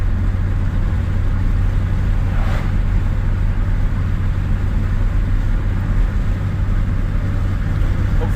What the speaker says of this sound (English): Hopefully you guys can hear over the wind noise